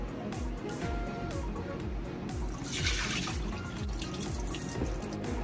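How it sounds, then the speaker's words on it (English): Water running and splashing from a kitchen sink tap as washed rice is drained before going into a rice cooker, a steady close rush with no talking. "And drain the water."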